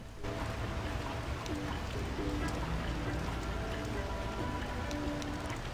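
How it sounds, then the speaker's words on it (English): Steady in-game rain from a video game tournament broadcast hisses continuously at low level, with faint tonal game sounds layered in the background. "The reason why I do hear rain all the time is because the source TV is receiving the in-game sound"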